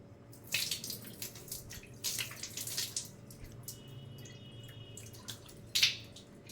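Water splashes in irregular bursts as a face is washed, close and fairly quiet, with dripping and trickling between the splashes and a brief louder splash near the end.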